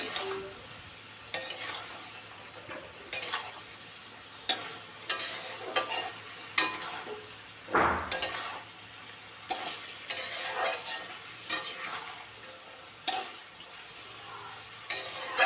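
Repeated scraping stirs and steady sizzling as fish and vegetables sauté in a pan, with occasional clinks of a utensil against the metal; no talking.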